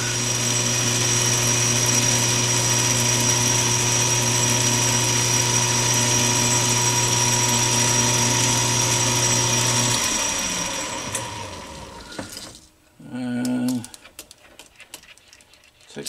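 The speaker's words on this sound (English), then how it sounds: "So I can put a little chamfer on it." A power tool runs with a steady high whine and a low hum for about ten seconds while chamfering a part during the rebuild of a Stuart S50 steam engine. It then winds down, and a short whir and clatter follow.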